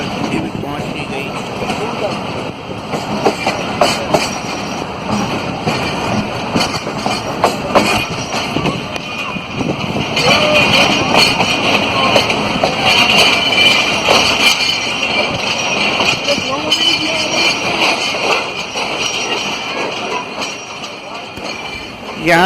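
Steady rumble and rhythmic clatter of the Hazara Express train rolling along the rails into Rawalpindi, with a voice talking over it for much of the time.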